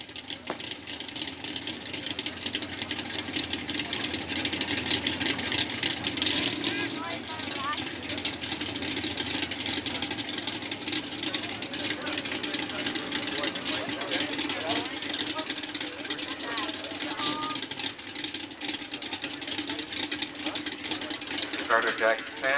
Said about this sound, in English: Leonard Strauss staging up that pretty little Duster, super gas type car